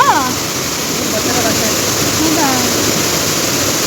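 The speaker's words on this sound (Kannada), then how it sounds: "ಚಾನೆಲ್ ನೀರು ಬಿಟ್ಟಾಗ ಇಲ್ಲಿ ಈ ಥರ ಬರುತ್ತಂತೆ ಸಿಕ್ಕಾಪಟ್ಟೆ ಸೌಂಡು" Loud, steady rushing of canal water let out through a release structure, a continuous broadband roar filling the whole stretch, with brief voices or chirps faintly audible under it.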